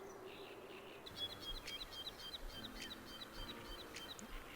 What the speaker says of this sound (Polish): Śpiew ptaków zapewne słyszycie.